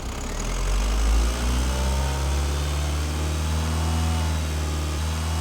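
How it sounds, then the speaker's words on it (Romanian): A car engine held at a steady 2500 rpm, droning loudly and evenly throughout with a strong low hum and no break. "cu motorul accelerat la o turație de 2500 de rotații pe minut"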